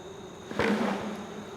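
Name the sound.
honeybees shaken into a bucket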